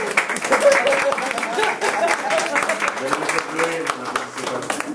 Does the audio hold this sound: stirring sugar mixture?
no